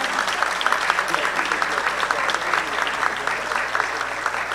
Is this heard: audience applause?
yes